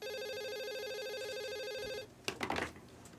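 A telephone rings with a steady electronic trill for about two seconds, then stops, followed by a brief clatter like the handset being picked up.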